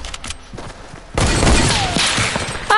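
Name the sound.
hunting rifle gunfire in Fortnite video game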